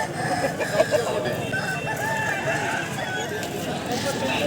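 A crossbreed rooster crows at a busy poultry market in Balarampur, Purulia, the call rising through a dense crowd of chatter and other fowl clucking nearby.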